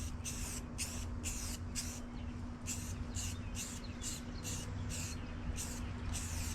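Short hissing bursts of spray paint, about a dozen in steady rhythm, lay light coats onto a 1987 El Camino part; close, fairly quiet passes with brief gaps between them.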